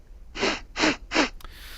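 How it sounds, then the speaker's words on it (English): Three sharp, forceful sniffs in steady rhythm, close and loud, followed by a brief click and quiet hiss. "I'm sniffing it up."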